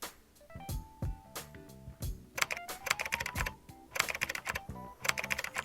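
A phone keyboard clicks out a title in quick irregular taps, close and fairly quiet, with small tonal blips mixed among the keystrokes and no talking.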